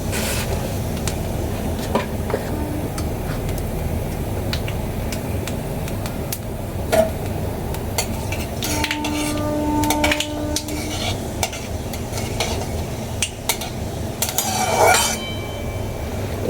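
Black cumin seeds temper in hot oil in a wok for a vegetarian spinach dish, a soft ongoing sizzle broken by stirring scrapes and metallic clinks of a spoon against the pan, with a louder clatter near the end.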